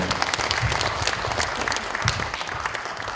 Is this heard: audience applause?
yes